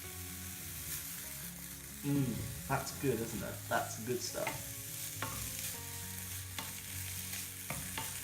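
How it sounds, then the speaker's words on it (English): Bacon frying in a pan gives a steady, close crackling sizzle with sharper pops and spits, while someone speaks briefly over it. "the incredibly loud sound this bacon's making whilst it's cooking"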